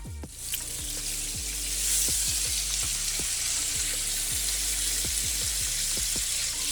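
Tri-tip beef searing in a thin pan gives a steady, close sizzle with broad hissing, broken by scattered small pops and crackles throughout.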